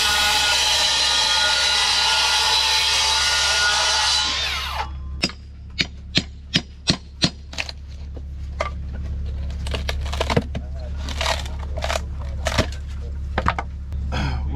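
A power tool whirs continuously against wall sheathing, then cuts out, leaving a series of sharp knocks and taps at uneven intervals over a low background hum.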